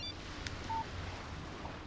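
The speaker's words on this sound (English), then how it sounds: "Text message from Barry." A short electronic text-message alert tone sounds once from a phone in the video game Alan Wake, a brief clean beep heard over a faint background.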